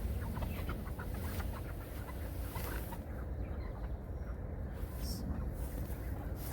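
Several chickens in a chicken tractor cluck softly and intermittently nearby as it is lifted, over a steady low rumble of outdoor background noise.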